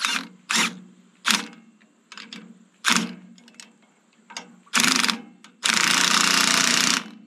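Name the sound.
impact wrench on a 19 millimeter socket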